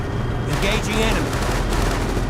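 Continuous, dense gunfire in the 2006 PC strategy game War On Terror, a steady rattle of overlapping shots with faint voice callouts mixed in.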